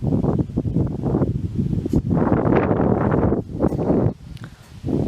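Gusty wind blowing outdoors on an autumn day, buffeting the microphone in loud, rough surges that drop briefly around a few moments before rising again.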